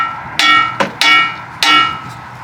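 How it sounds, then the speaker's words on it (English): Hammer strikes on a 1992-2000 Honda Civic tie rod end to knock it free from the steering knuckle: three sharp, close metallic blows with bright ringing, each decaying quickly. "usually just give it a light hit on here and it'll just disconnect from the knuckle"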